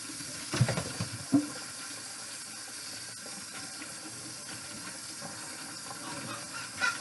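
Tap water runs steadily while cooked lasagna noodles are rinsed in a kitchen sink, a soft continuous hiss and splash with a couple of brief louder knocks near the start and the end.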